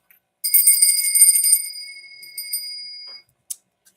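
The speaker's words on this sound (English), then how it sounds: "So, bells." Small bells ringing, a bright shimmering chime that swells then slowly rings out over about three seconds, followed by one short separate ding, clear and close in a quiet room.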